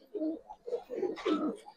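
Pigeons such as Giribaz and silver khaki breeds cooing close by, a series of soft, throaty, rolling coos in quick succession with no talking.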